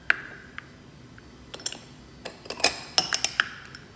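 Egg yolk stirred into single-serving cookie dough in a bowl, a utensil clinking and scraping against the bowl in a few scattered light taps, growing busier toward the end, near and fairly quiet with no talk.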